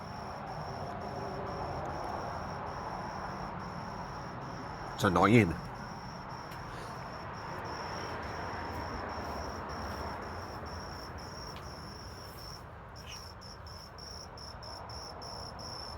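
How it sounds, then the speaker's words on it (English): A cricket chirps steadily in the background through the whole stretch, a faint continuous high trill, while a person speaks briefly and a short thump cuts in midway. "What's that noise? Is it a cricket?"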